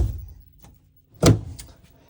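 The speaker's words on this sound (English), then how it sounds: "There is a pocket door over here that will slide out and give you privacy in your bathroom area." A pocket door in the bathroom area of a 2004 Holiday Rambler Imperial motorhome slides along its track, giving a short rolling scrape and then a sharp thud as it stops, with a faint bump before it.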